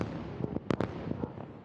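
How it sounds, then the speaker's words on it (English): Explosions in the Gaza Strip during resumed combat, heard as a series of distant booming thuds and sharp cracks in uneven bursts, the loudest pair close together near the middle. "Loud explosions and black smoke coming from the Gaza Strip this morning."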